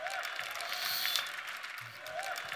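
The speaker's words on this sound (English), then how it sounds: "you can clap for that" An audience at a business seminar claps briefly and softly, a modest ripple of applause that swells and fades over a couple of seconds.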